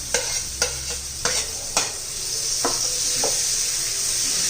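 Mint stirred into green chillies frying in a pan: several sharp spoon scrapes and knocks over a continuous hissing sizzle that grows steadier and louder once the stirring eases.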